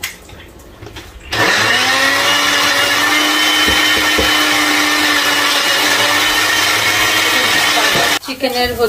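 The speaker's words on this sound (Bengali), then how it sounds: "এটা রান্না করে এটাকে আমি আবার ব্ল্যান্ড করে নিয়েছি" A blender purees cooked butter chicken gravy, a loud, steady whirring roar that starts abruptly, runs without a break for about seven seconds close up, then cuts off.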